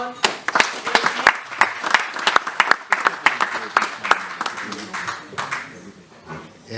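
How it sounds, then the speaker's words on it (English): An audience at a chamber of commerce networking breakfast claps, sharp irregular claps from a modest crowd that swell and then thin out, and a speaker talks over the applause. "You can give yourself a round of applause."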